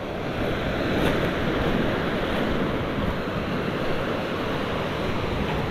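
Ocean waves wash along the shoreline of small Mantigue Island off Camiguin in a steady, loud, rushing roar, mixed with buffeting wind noise against the microphone and no voices.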